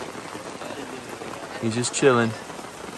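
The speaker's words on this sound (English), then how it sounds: "It's about 8 a.m., and it's still raining pretty good." Steady rain falls on a campsite in the Ozark woods early in the morning, a continuous even patter throughout, with someone speaking briefly over it near the end.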